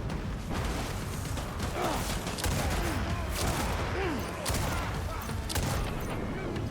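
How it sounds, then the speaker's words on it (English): Automated turrets firing in the Death Stranding: Director's Cut video game, a dense, continuous fusillade of rapid shots with mechanical clatter, loud and sustained amid game noise. "Oh wow, you guys set up turrets."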